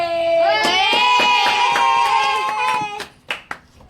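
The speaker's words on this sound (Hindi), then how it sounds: "तालियां बजाओ" A group claps hands in steady rhythm over a sustained sung or chanted tone, ending with a few scattered claps.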